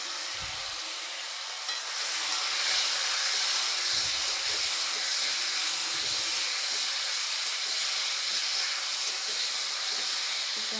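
Chicken pieces frying in a pan, a loud continuous hiss of hot oil close up that swells slightly after the first couple of seconds and holds steady, with a few low thumps and no talking.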